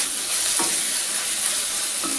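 Chicken frying in a pan with coarse ground pepper powder and a pinch of chili stirred in, giving a steady close sizzle with two brief scraping stirs.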